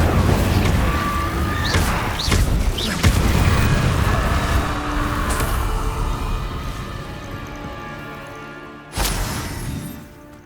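Incendio fire spell cast in Hogwarts Legacy on PS5: loud, dense whooshing bursts with sharp booming hits in the first few seconds. A sustained roar then fades, and a final crack lands near the end.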